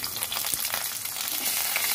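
Capsicum sizzles and fries steadily in hot oil tempered with five-spice, a close, continuous crackling hiss with faint stirring throughout.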